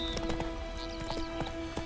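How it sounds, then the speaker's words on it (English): Horses in Witcher 3 galloping along in a steady clip-clop rhythm of hoofbeats over a constant background hum, moderately loud with no talking. "we're galloping along on horses cantering"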